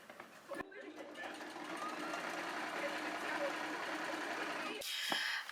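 A sewing machine stitches pillowcases in a steady, fast, continuous whir that runs through the whole passage. It starts and stops abruptly at both ends.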